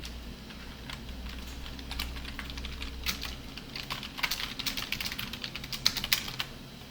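Computer keyboard typing a Ctrl K C shortcut, quiet close key clicks that start sparse and grow into a quick irregular run of taps over a low hum.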